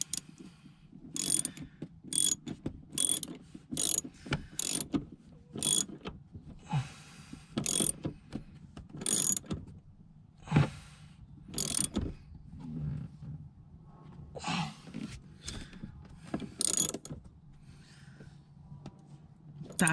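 A hand ratchet clicks in repeated short bursts, close and crisp, as it snugs down a brake booster bolt on a Volvo P2-platform car, with quiet pauses between strokes.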